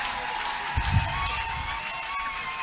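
A church congregation claps and cheers to acclaim the Lord, a steady crowd roar with scattered shouts throughout.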